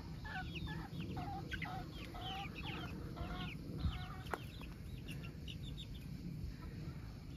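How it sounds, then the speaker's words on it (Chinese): Chickens forage for insects outdoors, giving a steady run of soft, fairly close clucks with a faint constant hiss behind them. "这些小鸡子就去找虫子吃啊。"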